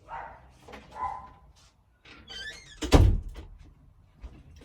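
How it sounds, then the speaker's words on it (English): A dog gives a few sharp barks, loudest in one burst near the middle, with quieter thumps and household noises around it. "Let me tell my dogs to be quiet."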